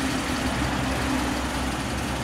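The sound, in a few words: 1950 Ford Custom Coupe engine running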